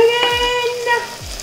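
Chopped tomatoes frying in hot oil in a pan for a curry, with a steady close sizzle and crackle and a few spatula stirs and scrapes, loud and continuous, no talking.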